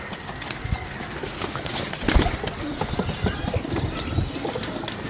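Freshly caught pigeons coo softly among other birds in a close, busy setting, with a brief low thump midway and scattered rustling, while someone talks over the birds.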